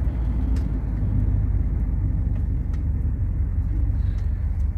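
A 1964 Mercury Marauder with a 390 V8 cruises along, giving a steady, close low rumble from the engine and road with no pauses.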